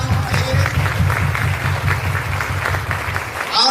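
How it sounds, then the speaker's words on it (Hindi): Audience applause rolls through a hall during a motivational business seminar, many hands clapping steadily and fairly loudly, with a low rhythmic hum and some crowd noise beneath. "और बिहार के जो विश्व पितामह कहे जाते हैं के अग्रवाल सर के लिए भी एक जबरदस्त ताली होनी चाहिए।"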